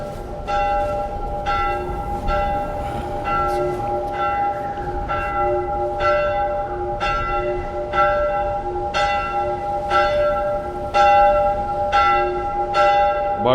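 A church bell tolls repeatedly at a steady, slow rhythm inside The Last of Us video game, each strike ringing out with a long, shimmering decay over a constant background hum.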